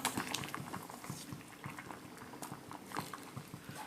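Pasta boiling in a pot of water, a busy bubbling and gurgling with uneven pops, close and moderately quiet with no talking.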